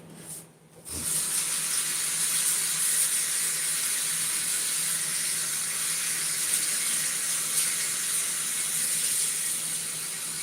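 Water from a tap runs steadily into a sink during handwashing, a continuous close hiss that starts after a brief thump and stays even, with no talking.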